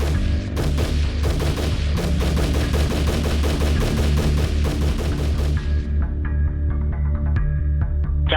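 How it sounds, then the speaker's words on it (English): Rapid, evenly spaced gunshots from a Bushmaster semi-automatic rifle crack out in a long loud burst, dozens of rounds over about six seconds, then cut off into a low hum with a few faint clicks; audio recorded during a school shooting. "154 rounds from a Bushmaster's semi-automatic rifle."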